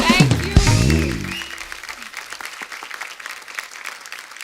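A TV comedy-show studio audience claps to welcome Deepika Padukone: a brief musical sting with swooping tones opens, then scattered, lively clapping continues on its own at moderate volume.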